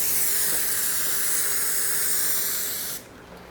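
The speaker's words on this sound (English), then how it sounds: "just spraying it with the fresh Super 77 kind of freed up some of the glue that was under there" Super 77 spray adhesive hissing from an aerosol can in one steady, close, loud burst for about three seconds before cutting off, applied while rebuilding speakers.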